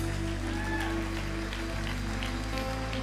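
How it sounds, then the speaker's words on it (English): Church congregation at a Sunday service clapping hands in praise, a quiet rhythmic patter of many hands under a sustained low musical drone and faint background voices. "give the Lord a hand clap of praise"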